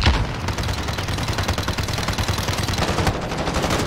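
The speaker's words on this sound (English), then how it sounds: "I'm using fucking assault rifles. I'll use assault rifles." Sustained rapid assault rifle fire in Call of Duty, a dense, loud rattle of automatic bursts running continuously with no pauses.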